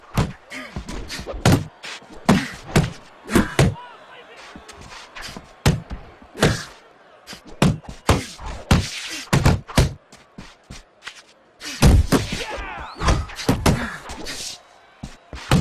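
Punches land in the boxing video game Fight Night Champion as a series of sharp thuds and slaps in irregular bursts and combinations, loud and close, with short gaps between exchanges.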